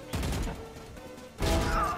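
A gun fires in the tactical shooter Valorant, with a loud burst at the start, a lull, then a second sharp volley near the end. No voices are heard.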